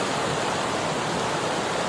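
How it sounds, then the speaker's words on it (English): Steady broadband rush of a small section of the Chilliwack River flowing near a roadside, continuous and fairly close with no talking over it. "nice little section of river."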